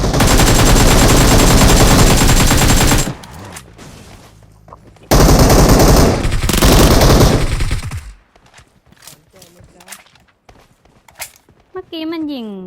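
Machine gun fire in PUBG plays as loud, dense automatic bursts, then rattling shots and scattered clicks, with a voice talking over the game sounds.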